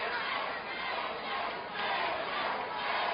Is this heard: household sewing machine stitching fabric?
no